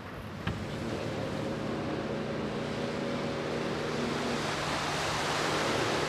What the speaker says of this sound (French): franchir la fameuse barre de vagues qui longe la plage